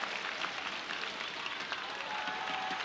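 A Singaporean crowd applauds at a table tennis world championship quarter-final, a steady wash of clapping that holds evenly throughout without dying down.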